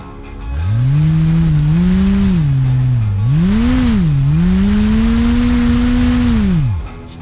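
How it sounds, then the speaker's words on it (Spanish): A brushless motor salvaged from a CD/DVD drive, fitted with propellers for an RC plane, spins up into a steady humming whine that wavers in pitch for several seconds before cutting off abruptly, with no talking. "Luego comienzo a elevar el nivel y le coloco unas hélices."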